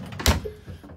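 A cupboard door or drawer in a Knaus Sport 2017 caravan gives a single short close knock, with faint movement around it.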